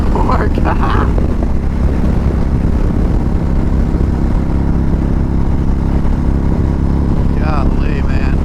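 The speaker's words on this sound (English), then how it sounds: "The bike feels so stable just going through the gears, which is awesome. And it'll just launch." A custom 2019 Indian Chieftain Dark Horse motorcycle accelerates through the gears with a loud, continuous engine drone and heavy wind rush. A voice is faintly audible near the start and end.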